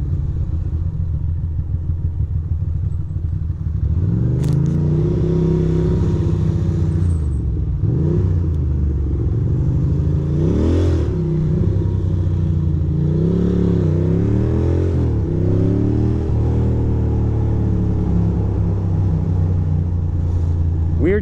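A Ducati motorcycle on a ride from Queens to Brooklyn revs hard and accelerates to pass a car, engine pitch rising and falling through repeated gear changes, loud and close over steady road and wind rumble.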